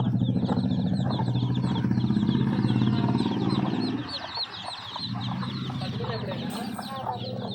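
Chicks and a hen drinking jaggery water, loud close chirping and clucking that runs continuously, with faint background noise.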